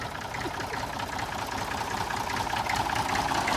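A tractor engine idles close by, a steady rumbling chug with a rhythmic knock that holds at an even level throughout.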